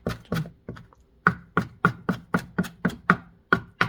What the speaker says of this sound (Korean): 이렇게 곱게 다져주세요